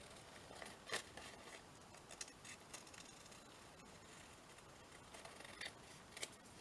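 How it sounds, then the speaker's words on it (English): Scissors cut paper around the outside of a handmade journal pocket tag, a faint close series of soft snips and rustles with short pauses and no talk. "And then cut round the outside."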